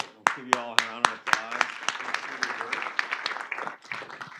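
Applause from a workshop audience, a steady patter of many hands clapping that starts with sharp separate claps and fills into a dense crackle, with a voice speaking briefly under the opening.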